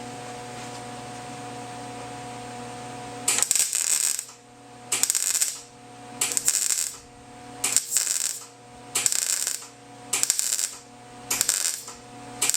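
Short bursts of welding on a replacement metal panel seam, about seven crackling, buzzing pulses in a steady rhythm, each about a second long with brief pauses between, close and fairly loud over a constant low hum.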